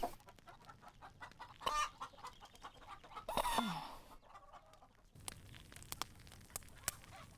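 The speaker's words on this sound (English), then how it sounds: "Chickens." Chickens clucking in scattered bursts, fairly close, over a low rustling background with a brief louder squawk in the middle.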